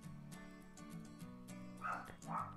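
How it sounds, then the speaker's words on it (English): A pet dog barks and yips indoors during a game session, a couple of sharp barks rising over a steady tonal background, fairly close but not loud. "Oh, my dog's barking"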